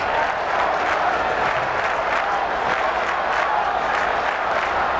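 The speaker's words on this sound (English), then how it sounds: "I haven't heard a crowd in Chicago cheer like that since Steve Stone picked up a dinner check" A crowd at a Cubs baseball game in Chicago roars in a dense, sustained wall of cheering and applause that stays loud and even from start to finish, with no break.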